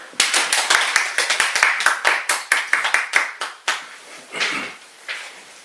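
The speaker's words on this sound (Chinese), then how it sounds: "我们就大家一同鼓掌，来欢迎我们团队里面最帅的 David 老师" A small indoor audience at a family training session claps to welcome a speaker: sharp, close handclaps in a quick, uneven burst that thins into a few scattered claps at the end.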